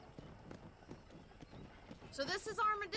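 Horse hooves clip-clop in a steady, fairly faint rhythm in the Western video game Red Dead Redemption, followed by a short whinny-like animal call, with game dialogue and commentary speaking over it.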